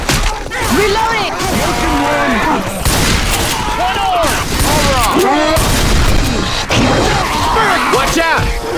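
Gunfire in a chaotic multiplayer video game shootout, sharp repeated shots and impacts layered under constant frantic shouting from several players.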